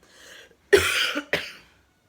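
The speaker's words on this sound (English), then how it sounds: "hope this cough goes soon" A single person coughs twice up close, a harsh rasping burst followed by a shorter second one, after a soft breath.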